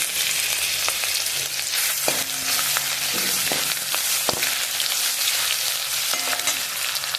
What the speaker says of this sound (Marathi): त्याच्यामध्ये आलं लसणाची पेस्ट टाकते